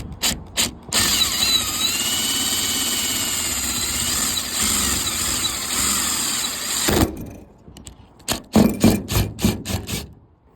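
A drill spins a drywall screw into a car hood to start a pilot hole, a loud continuous whirring grind for several seconds, then stopping, followed by short bursts of rattling clicks and taps.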